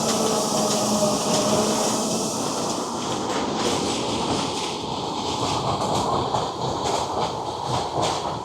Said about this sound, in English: I always get a great ride up on the runaway mine train.